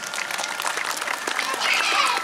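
Audience applause at a sea lion show at Blackpool Zoo, a short burst of steady crowd clapping that swells slightly toward the end, moderately loud and dense.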